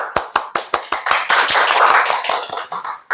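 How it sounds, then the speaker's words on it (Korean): An audience at a church Wednesday student-service sermon claps loudly with rapid, fairly even claps that blur into a continuous burst of applause before tapering off. "박수."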